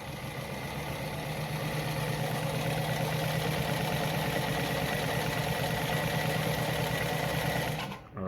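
A Lada model 233 sewing machine runs a straight stitch in one continuous, steady mechanical whir with a rapid even rhythm, close and loud, cutting off abruptly at the end.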